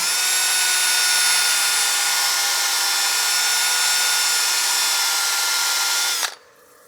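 Sandpaper of 600 grit pressed against a spinning wooden cake stand on a lathe gives a steady, loud whirring hiss with a high tonal whine, then cuts off abruptly near the end.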